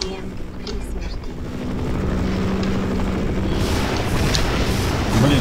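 Helicopter in Half-Life Source, a loud rotor and engine roar that swells after the first two seconds and stays heavy throughout, with booming game effects mixed in.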